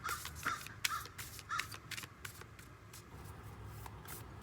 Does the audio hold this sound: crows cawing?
yes